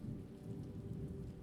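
Steady rain with low rumbling thunder heard from inside a Viking longhouse, a dense soft wash with a deep continuous rumble, even and subdued throughout.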